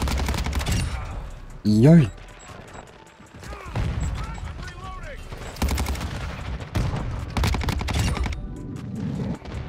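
Cronen Squall battle rifle fire in Modern Warfare 2, with repeated bursts of rapid shots and scattered single reports. A person talks briefly over the shooting.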